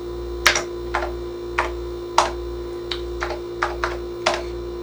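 Keys clack one at a time at an irregular pace on the keyboard of a Texas Instruments Professional Computer, crisp and close, over a steady low electrical hum with no speech.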